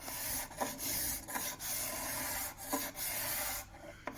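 A steady scraping rasp of a spokeshave blade on curved wood, with brief chattering breaks where it skips across the tops, close and continuous for a few seconds.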